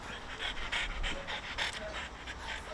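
Dog panting steadily and close by, a quick rhythmic run of breathy puffs lasting a few seconds, with no voices.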